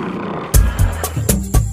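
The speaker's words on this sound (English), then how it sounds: "Wow, lions!" Lions in a children's alphabet cartoon let out a series of short, loud, deep roaring bursts, about five in quick succession.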